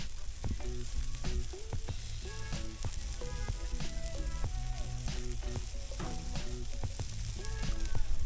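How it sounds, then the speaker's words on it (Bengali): Barbecue chicken leg pieces sizzling on a grill by a sea beach near Kolkata, a loud continuous crackling fry with sharp pops, alongside faint tonal music in the background. "দেখো অ্যাজ ইউজুয়াল কিন্তু বারবিকিউ চিকেনের প্রিপারেশন চলছে।"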